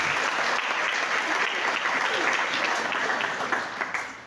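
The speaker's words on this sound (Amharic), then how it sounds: "ለጌታ ክብር አጨብጭቡ" Sustained applause from a church congregation at a wedding ceremony, dense steady clapping throughout that begins to thin out near the end, with no talking over it.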